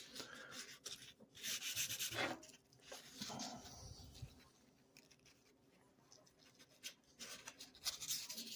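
Fine 1000-grit sandpaper rubs across guitar frets in uneven strokes, soft scratchy passes with short pauses between them, close and fairly quiet.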